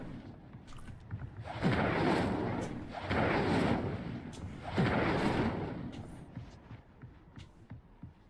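Incendio fire spell cast in Hogwarts Legacy, giving three loud roaring whooshes of flame, each swelling and fading over a second or so.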